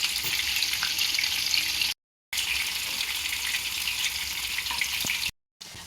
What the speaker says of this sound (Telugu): అన్నీ వేసుకొని మీడియం ఫ్లేమ్లో పెట్టుకొని అటు ఇటు తిప్పుతూ బాగా వేయించుకోవాలి.